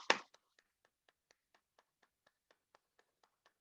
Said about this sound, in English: Okay, clap your hands